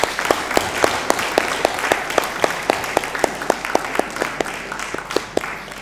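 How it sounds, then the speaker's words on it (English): An audience at a curriculum conference in Nairobi applauds during a presentation of a token to a minister, a steady wash of clapping with a few sharp, distinct claps standing out, fairly loud and close. "Please give her a clap as this is done."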